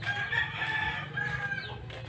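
Chickens cluck and a rooster crows at a rural Philippine spot, the crowing and clucking loud and close, overlapping across the whole stretch.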